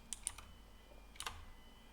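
A handful of quick keystrokes on a computer keyboard as a command is typed, faint, close clicks in two small clusters against quiet room hiss.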